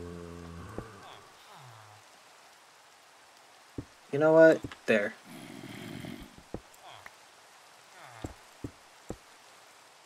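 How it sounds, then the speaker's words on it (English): Rain in the video game Minecraft falls as a soft, steady hiss throughout, under someone talking, with occasional clicks and thuds from in-game actions. "Why does it have to rain?"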